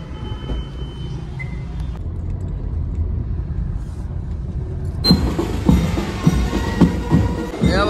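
A car rolls slowly along a road, its low engine rumble steady throughout, growing louder and rougher in the second half with nearby clatter and road noise.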